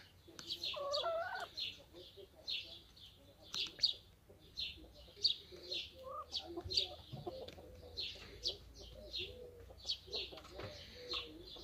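Hens cluck softly and intermittently, short nearby calls in an uneven rhythm, with a few louder squawks early on over a quiet background.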